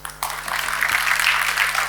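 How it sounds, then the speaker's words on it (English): Applause from an audience at a Ghana Compact launch event swells up after a brief pause and keeps going steadily as a dense wash of clapping. "Round of applause for Dr. Chambers"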